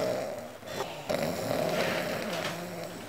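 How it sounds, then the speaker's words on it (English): Snoring from a sleeping person in a bedroom, a continuous low rumbling drone with rough, rattly texture and a brief break partway through, heard close and fairly loud with no talking. "You're snoring."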